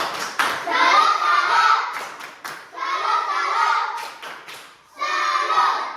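Schoolchildren in a sixth-grade classroom clap a rhythmic 'tepuk salut' pattern in three bursts of patterned hand claps, close and lively, with brief gaps of children's voices between them.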